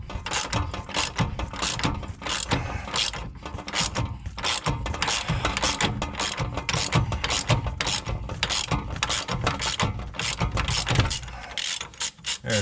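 Tool pressing a suspension bushing into its cup on a Mercedes W124 knuckle, a steady run of close ratcheting and creaking mechanical clicks with no talking.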